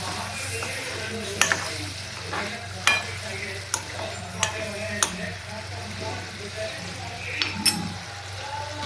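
Pumpkin flower sabzi frying in a pan while a spoon stirs it, with a soft sizzle underneath and scattered metallic scrapes and clinks against the pan.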